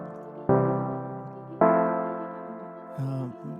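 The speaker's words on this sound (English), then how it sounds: "And then I layered that up with the Arctic Sun plucking patch." A layered synth patch, an Alchemy vocal sound stacked with an Arctic Sun pluck, strikes three sustained chords that ring and slowly fade, clean and alone.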